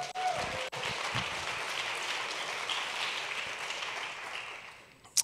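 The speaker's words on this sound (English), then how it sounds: "Give yourselves a round of applause." An audience at a talk event applauds itself, a steady, even wash of clapping at moderate volume that slowly thins and fades out over about five seconds.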